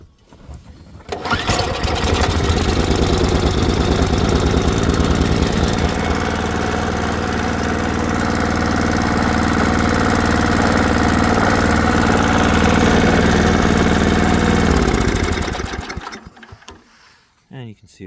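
The engine of an Ariens ST524 snowblower starts with a quick pull and catches, then runs at a loud, steady idle close by for over ten seconds before shutting down.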